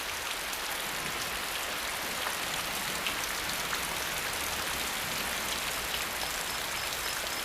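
Rain pours steadily onto a tropical rainforest canopy, a dense, even hiss of countless drops spattering on leaves with no pauses or other sounds, close and continuous throughout.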